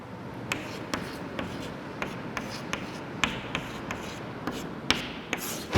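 Numbers written by hand during a class 6 maths lesson, soft scratchy pen or chalk strokes with small irregular taps, faint and close with no talking.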